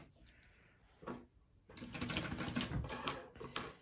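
A sewing machine bastes a zipper onto a bag at a long stitch length, with a short burst of stitching followed by a longer, steady run, soft and close.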